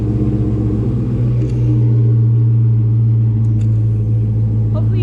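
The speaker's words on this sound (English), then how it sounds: "my dad's car is super loud. He owns a 1969 Camaro." A loud 1969 Camaro engine idles in a steady, deep rumble that runs through the whole stretch, close by, with a person talking over it.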